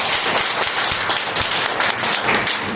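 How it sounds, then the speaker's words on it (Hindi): Loud, dense applause from an audience at a marketing-plan presentation, a steady wall of clapping held through the whole stretch with no pause. "तो हमारे रिस्पेक्टेड माननीय किसी सर के लिए चाहेंगे एक बार जोरदार ताली होना चाहिए।"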